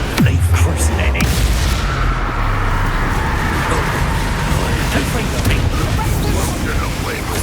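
Loud, continuous rumbling blast noise from Bombarda explosion spells in Hogwarts Legacy, a dense roar of detonations and debris without clear breaks, with a voice speaking over it.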